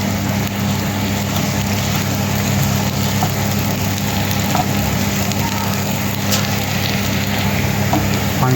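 Onions sauté in a pan for an omelette, giving a loud, continuous sizzle and crackle that stays close and steady throughout, with no talking.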